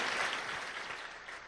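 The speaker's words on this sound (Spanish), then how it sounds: "Dale un aplauso más fuerte al Señor" A church congregation claps during a Spanish-language worship service, giving a steady wash of many hands that fades slightly toward the end.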